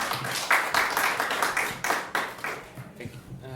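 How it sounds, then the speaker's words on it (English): Applause from a small audience at an arts event for a chatbot singing performer, sparse distinct hand claps in a loose rhythm that thin out and fade, with a voice faintly near the end. "Please give an applause to André Castro."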